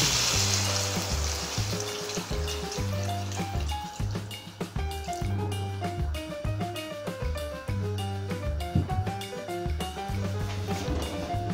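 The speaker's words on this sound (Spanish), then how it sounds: "Rehogamos un minutito. Añadimos el cardo." Cardoon sautés in a pan with oil for a seafood paella, giving a continuous close sizzle and bubbling crackle with intermittent clicks and stirring scrapes.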